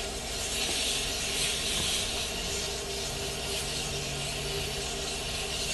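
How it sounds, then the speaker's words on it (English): Sandpaper rubbing against a spinning wooden goblet on a woodturning lathe, a continuous close hissing rasp held steady throughout. "I always sand about half the piece with this side"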